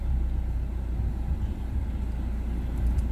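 A 2019 Mazda MX-5 Miata RF 30th Anniversary idling, a steady low engine rumble heard close and alone with no talk.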